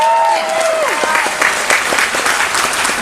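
An audience at a talk on inclusivity in the gaming industry bursts into steady, dense applause that fills the room, loud and sustained throughout, with a brief voice tone fading at the start.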